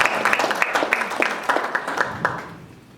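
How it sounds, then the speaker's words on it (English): A brief round of clapping from a conference audience at a political summit welcoming the session chair, scattered claps fading out over a few seconds. "A round of applause for her."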